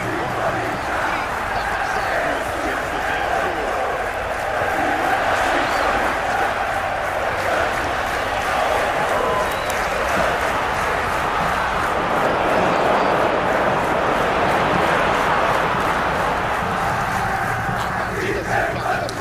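A stadium crowd roars in a football video game, a dense, unbroken wall of cheering and chanting that stays loud and steady from start to finish.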